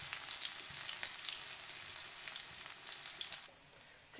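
Cumin seeds sizzling in hot oil: a continuous close crackling hiss that eases slightly toward the end, followed by a short clatter.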